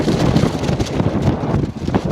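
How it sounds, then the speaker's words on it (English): Strong wind buffets the microphone beside Bray Lake, a steady broadband roar with gusty swells throughout, close and loud, with no voices. "That wind is strong"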